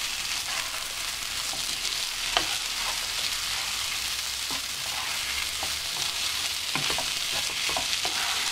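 Garam masala stirred into mushroom pulao frying in a pan: a steady, close sizzle runs throughout, broken by occasional soft scrapes and clinks of a spoon against the vessel.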